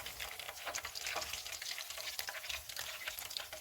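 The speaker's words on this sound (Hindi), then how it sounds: "फ़िश बाइट्स फ्राई हो गए हैं" Fish bites deep-frying in oil produce a dense, continuous hiss and crackle of fine bubbling, steady and fairly soft, heard close without any voices.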